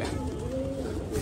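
A Pakistani black chandna pigeon coos in a short, soft murmur with a faint tonal hum, close by and without talk.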